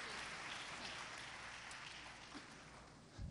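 A church congregation applauding, a dense, steady wash of clapping from a large crowd heard at a distance, fairly faint, with a low thump near the end.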